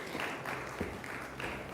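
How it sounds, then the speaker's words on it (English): Audience applause at a business conference, a steady wash of clapping from a large crowd in a hall that swells in several faint waves, with no one speaking over it. "Please, big round of applause for everybody on stage."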